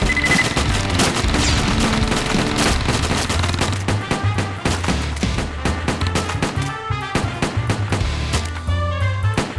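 Rapid machine gun fire in an OUYA video game, dense continuous bursts of shots, loud and close over game music.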